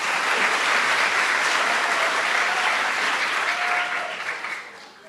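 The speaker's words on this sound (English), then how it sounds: "Can we practice clapping?" A concert audience rehearsing its applause at a shakuhachi and koto performance, steady loud clapping from many hands that holds for several seconds and then thins out as people trail off.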